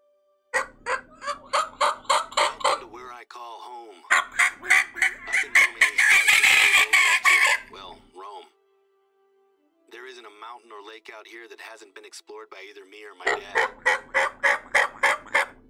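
A turkey mouth call in theHunter: Call of the Wild, a hunting video game, gives rapid raspy yelps in several bursts of steady repeated notes, close and fairly loud, with brief pauses and some talking between series.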